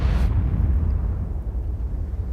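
A single tank gun shot in World of Tanks, a sharp bursting blast at the start followed by a rumbling low decay, with no voices over it.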